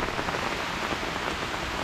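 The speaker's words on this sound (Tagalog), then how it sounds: "inabot na po kami ng ulan" Heavy rain pouring steadily onto a surface, a dense, loud, continuous patter close by with no voices.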